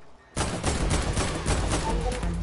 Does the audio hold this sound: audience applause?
no